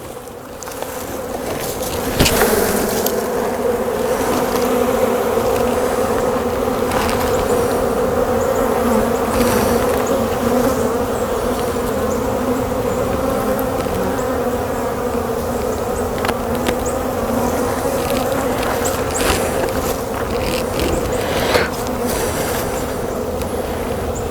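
A dense, steady buzz of many honeybees close by on a hive frame of bees and brood, continuous throughout with a low droning hum and occasional louder passes.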